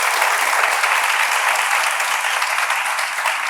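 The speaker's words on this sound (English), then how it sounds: "Please give them a round of applause." A studio or event audience gives a round of applause for guests at a talk on mothers as leaders, an even, continuous wash of clapping at moderate level with no talking.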